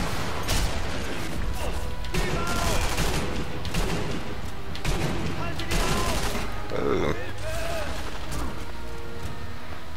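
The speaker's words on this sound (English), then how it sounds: "Who was shooting at me from the right?" Gunfire in the Sniper Elite V2 video game, loud repeated shots and bursts scattered through a dense, busy mix of battle noise, with someone talking over much of it.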